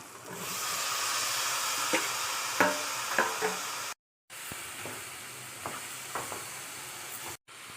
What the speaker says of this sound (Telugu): ఇవి కొంచెం బాగా మగ్గాక చిక్కుడుకాయలు వేసుకోవడమే